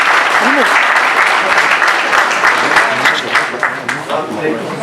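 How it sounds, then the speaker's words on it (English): Sustained applause from a large audience at a freshers' induction programme, loud and steady throughout with dense clapping and a brief voice near the start. "Huge round of applause for Department of Chemistry."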